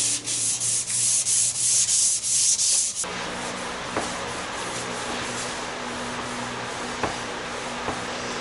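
Hand sanding of car paint on a Nissan Skyline R33 front bar with 800 grit sandpaper gives a steady, close rubbing rasp. It begins in rhythmic strokes, then turns to a continuous lower scrub with faint knocks.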